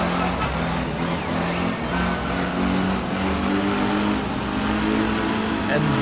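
The carburetted engine of a 1967 Renault R8 Gordini, with double overhead cams and 16 valves, runs in Art of Rally with a steady, gravelly drone under continuous talk.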